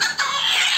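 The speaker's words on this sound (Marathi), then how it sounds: "अंडे देण्यासाठी काही कोंबड्या बसलेले आहेत" Hens sitting in egg-laying nests, giving a short, close nasal cluck or squawk, alone and brief.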